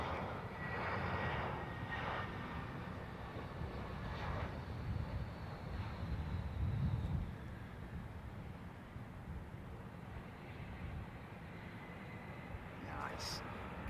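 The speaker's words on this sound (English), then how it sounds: "Good shots of aircraft taxiing to gate." A fixed-wing jet airliner taxis to a gate at London Heathrow Airport, giving a steady, moderately distant engine roar with some wind noise and faint talk mixed in.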